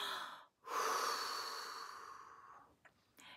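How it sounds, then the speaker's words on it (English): One person draws a long audible breath, a sustained airy intake of about two seconds after a brief pause, close to the ear and fairly quiet, followed by a couple of small clicks and a short breathy sound. "take a breath."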